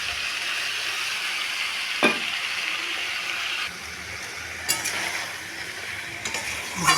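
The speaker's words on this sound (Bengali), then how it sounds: "নাড়াচাড়া করছি।" Jackfruit, potato and prawn curry sizzles steadily in a pan while a spoon stirs it, with occasional scraping knocks against the pan over the continuous frying hiss.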